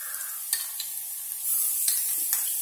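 Masala, garam masala and ginger garlic paste stirred in a hot pan for a mussel roast, a steady close sizzle with light scraping stir strokes, no talk.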